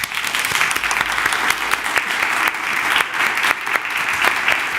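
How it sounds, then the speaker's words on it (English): A congregation breaks into a hearty round of applause, dense continuous clapping from many hands filling the room at a steady, loud level for the full stretch. "the congregation welcomes you with a hearty round of applause"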